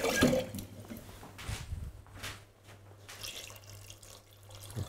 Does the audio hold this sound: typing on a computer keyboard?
no